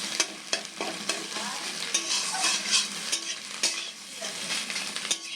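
Beaten egg sizzles and fries in a pan up close while a utensil stirs and scrapes it every second or so.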